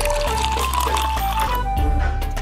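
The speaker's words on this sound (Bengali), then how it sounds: "এই যে দুধ। এখন আমি এটাকে ঢেলে নিব।" Milk pours steadily into a container in a continuous, close liquid stream, loud and unbroken throughout with no talking.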